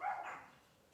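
A single short, muffled dog bark sounds at a distance, faint and quickly fading, with nothing else around it.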